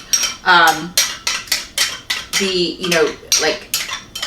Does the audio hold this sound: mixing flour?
yes